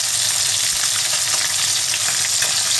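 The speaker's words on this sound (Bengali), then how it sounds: "তেলটাকে বেশ করে গরম করে নেবেন, তারপরে মাছ ছাড়বেন, মাছটা গোটা গোটা উঠবে" Fish pieces fry in well-heated oil, producing a dense, continuous sizzle and crackle close up, loud and steady for a few seconds with no talking over it.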